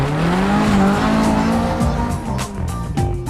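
A Caterham 21 sports car with a 1.8-litre Rover VVC engine drives past loudly, its engine note rising and then shifting, with a brief tyre squeal.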